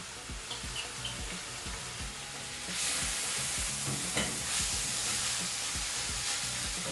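Ginger and garlic paste fries and sizzles in a pan while a spoon stirs it with soft scraping, the sizzle swelling louder partway through and holding steady with no voices.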